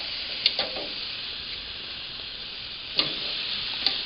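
Flanken-cut short ribs sizzle on a hot grill, a steady broadband fry hiss with a few sharp pops and crackles standing out, close and continuous with no talking.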